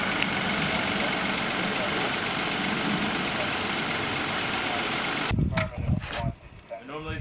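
A military vehicle engine idles with a steady rumbling drone for about five seconds, then cuts away to muffled movement and a voice nearby.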